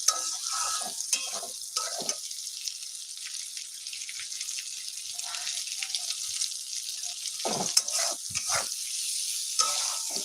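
Eggplant fries in a pan with a steady broadband sizzle throughout, broken by intermittent scraping and clacking as it is stirred, close and moderately loud.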